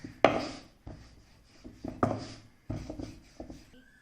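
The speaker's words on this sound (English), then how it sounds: "Now roll it out like any other roti or pulka." Akki roti rice-flour dough being rolled out with a rolling pin on a board, a few soft irregular thuds and rubbing strokes, close and quiet with no talking.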